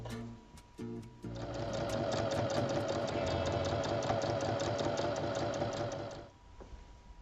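A sewing machine stitches a seam on a flowered fabric bag, with a few single needle strokes, then a steady fast run lasting about five seconds before it slows and stops, close and loud.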